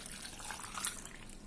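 Water pours into a blender jar with grapes, a steady soft, splashing hiss for a brief moment, close by and without any talking.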